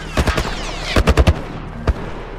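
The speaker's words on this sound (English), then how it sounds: "A military turret." Military turret firing in The Last of Us Part I, loud close bursts of rapid gunfire, a quick volley, then a tighter cluster of shots and one last report, with no talk.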